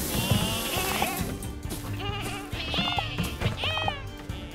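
Sheep bleat repeatedly in the video game Lumberhill, several wavering calls overlapping game music and effects, fairly loud and close.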